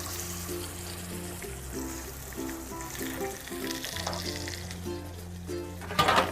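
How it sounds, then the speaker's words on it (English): A pork loin sears in a hot pan, with a continuous, moderate sizzle under soft background music and no one speaking. "we're gonna get our pork loin in. Are you ready for the sizzle?"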